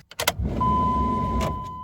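A Cummins diesel truck engine on a cold morning, cranking briefly and then catching into a low steady idle, close and loud, with a thin electronic tone running alongside and no talk.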